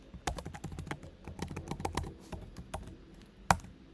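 An email address is entered on a computer keyboard during a web login, a close series of crisp irregular key clicks over four seconds, ending in one sharp louder keystroke.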